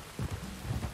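Steady rain hisses in Red Dead Redemption 2 while low thunder rumbles roll underneath, fairly faint, with no voices.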